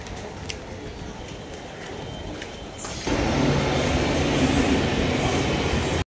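Train station ambience at Santacruz station, Mumbai, with a rail car rolling past, a steady rumble of wheels on track that grows louder halfway through.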